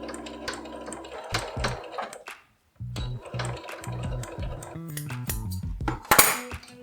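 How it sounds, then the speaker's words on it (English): A sewing machine stitches small quilt pieces for a brick wall quilt pattern, running in short rhythmic bursts with brief pauses and a clattering mechanical hum, close and fairly loud. "I prefer using my sewing machine"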